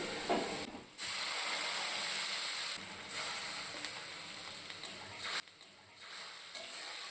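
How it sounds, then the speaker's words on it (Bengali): Water is poured onto deep-red fried onions for a chicken and potato biryani, setting off a soft, steady steam hiss that cuts out in a few short breaks; quiet and close, with no talking. "পেঁয়াজ কুচিটা একদম লাল লাল করে ভাজা হয়ে গেছে এরপর এর মধ্যে দিয়ে দেবো জল"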